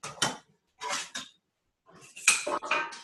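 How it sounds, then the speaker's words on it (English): A knife chops onions on a board in a few quick bursts of crisp knocks and scrapes, close and clear, separated by short pauses of silence. "Cut my onions at this point."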